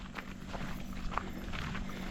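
Footsteps walking along a rough rural road toward a house, soft irregular steps over a steady outdoor background hum.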